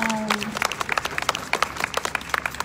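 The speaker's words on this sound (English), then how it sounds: "I want to offer just a clap up to everyone" Audience members at a Long Beach budget press conference clap, a brisk scatter of individual hand claps following a brief voice at the start, fairly close and moderately loud.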